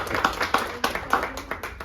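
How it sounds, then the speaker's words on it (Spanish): A small group gives brief applause for a student's chart in a class on poverty, a short run of scattered claps under two seconds long. "Yo le daría un aplauso por esa gráfica"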